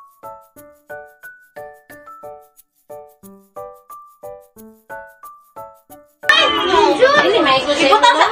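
A short tinkling melody of separate notes plays, then a loud burst of many overlapping excited family voices shouting and yelling together up close while opening a balikbayan box in the Philippines.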